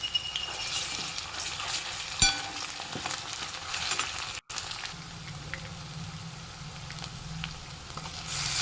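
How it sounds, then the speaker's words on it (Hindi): Onions sizzle and fry steadily in a pan for a dhaba-style dal tadka, a continuous close crackling hiss with a brief clink near the middle and no talking. "इसे भून लीजिए। जब प्याज लाल हो जाएंगे"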